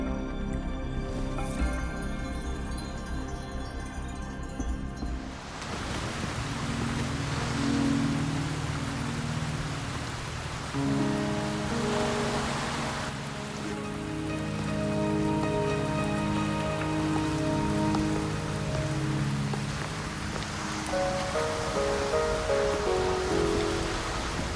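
Steady rain pours down in the video game Wuthering Waves, a continuous hiss of drops on surfaces running under layered musical tones that shift and swell throughout.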